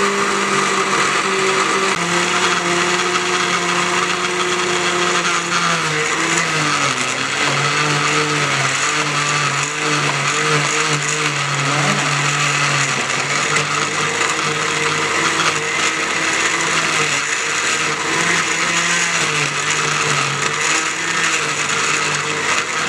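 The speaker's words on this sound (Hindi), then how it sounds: "अब सब इसको आप ग्राइंड कर लें अच्छी तरह से।" A kitchen blender grinds vegetable sauce ingredients into a chutney in one steady, loud, close whirr, its motor pitch dipping and wavering as the mixture churns.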